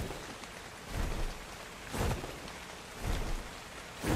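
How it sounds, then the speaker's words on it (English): Rain falls in the video game Ark Survival, a steady hiss of rainfall with low rumbling swells recurring roughly every second, moderately quiet with no voices. "It starts to rain"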